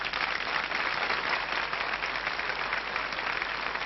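A French television studio audience applauds the Kelly family, a dense, even wash of clapping that holds steady and fairly loud for several seconds with no voices on top.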